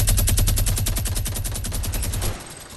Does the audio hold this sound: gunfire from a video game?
yes